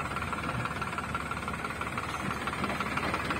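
A Farmtrac 60 tractor hauls a trolley loaded with dung, its diesel engine chugging in a steady, dense rumble with rattling clatter, loud and close throughout, with no speech.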